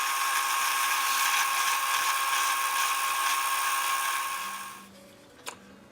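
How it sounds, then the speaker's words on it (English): A drill bores through a piece of ebony for an archtop guitar tailpiece hinge pin, a steady high whine running loud for about four seconds before winding down and stopping, followed by a brief faint knock. "drill a hole through the ebony all the way to the other side for the hinge pin"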